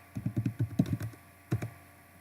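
Numbers are entered on a computer keyboard in a quick run of about ten close key taps. After a short pause come two more taps. The typing is nearby and fairly quiet.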